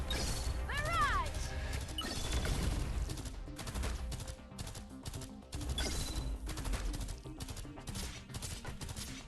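Barrage attack skill effects from the Arknights Endfield video game, a dense volley of crashing, whacking impacts and rapid gunfire-like bursts with swooping tones, loud and continuous, with a voice calling out at the start.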